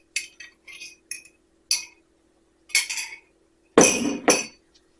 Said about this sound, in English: Now I get my egg, I let it come to room temperature, and then I mix it